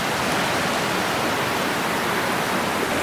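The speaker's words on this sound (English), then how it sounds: "Nice little easy walk to the creek." Mountain creek water rushing steadily in the Great Smoky Mountains, a dense, continuous close-up roar of flowing water with no pauses and no voices.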